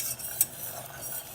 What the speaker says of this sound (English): I've been stirring the sugar and the glucose and the water.